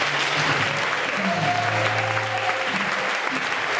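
A church congregation applauds and acclaims God, sustained dense clapping with voices calling out and a few held shouts rising over it throughout.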